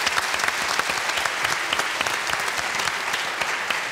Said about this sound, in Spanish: Denle un aplauso a ese notario.